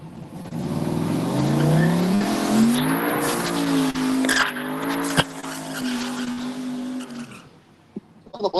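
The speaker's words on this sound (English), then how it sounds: "So the Blazer will heat in the tires." A Blazer drag race car does a burnout to heat its tires at a drag strip, its engine revving loud and sustained with rising and falling pitch and tire noise, the sound holding steady before cutting off near the end.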